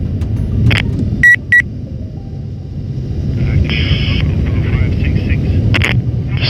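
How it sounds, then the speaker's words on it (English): A huge Antonov An-225 cargo aircraft takes off with a deep, steady engine rumble, joined by short cockpit beeps and a mid-pitched whine. The roar stays close and fairly loud throughout, with a few brief tones over it. "Just have a look at this beautiful footage of an Antonov 225 takeoff"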